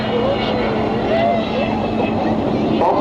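Avro Vulcan XH558 bomber flying at the Great Yorkshire Air Show 2015, a loud, steady jet-engine roar that fills the whole stretch, with a voice talking over it.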